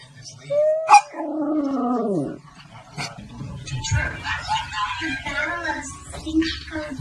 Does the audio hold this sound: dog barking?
yes